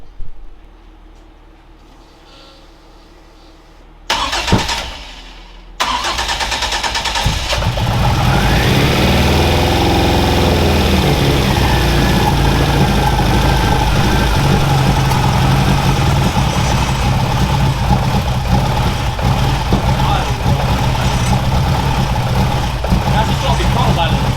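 The upgraded engine of a Ford Escort Mexico Mk2 is cranked, catches and settles into a loud, steady idle close by after a quiet lead-in.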